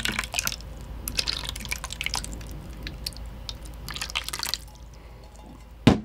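Water dripping onto a sensor stand-in in a demonstration: scattered close drips and squishy wet taps run throughout, with a louder splash near the end and no talk.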